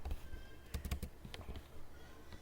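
Computer keyboard typing Python code, soft clustered keystrokes in short bursts with pauses, close and fairly quiet.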